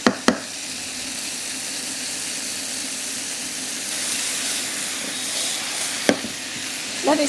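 Aged garlic puree and MSG sizzle steadily in a hot pan for Chinese takeaway-style chicken in black bean sauce, a constant close hiss broken by a few sharp clinks of a utensil.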